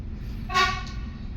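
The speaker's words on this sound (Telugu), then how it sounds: "విన్నారా సౌండ్? Horn sound" Train horn at Dakar railway station, Senegal: a single short, loud, harmonic toot of about half a second rising over steady low station rumble.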